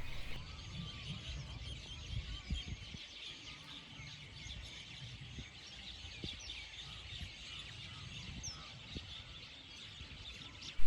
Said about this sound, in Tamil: அதில் அந்த குருவிகள் அந்த கீச்சுங்கிற சவுண்ட் எல்லாமே இப்போ உங்களுக்கு கேட்கும்